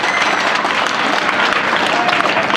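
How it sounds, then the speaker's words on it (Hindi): An audience at a school annual function breaks into dense, steady applause, loud and continuous throughout, with voices mixed into the clapping. "एक बार जोरदार तालियां से उनका स्वागत और अभिनंदन"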